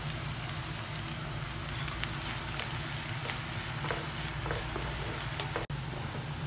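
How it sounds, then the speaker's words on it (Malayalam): Onions sauté in a pan with a dense, continuous hiss and crackle, steady and close, with a few faint clicks and one brief dropout near the end. "ഇനി സവാള ഇതെല്ലാം കൂടി ഇട്ട് നല്ലതുപോലെ നമുക്ക് വഴറ്റെടുക്കാം"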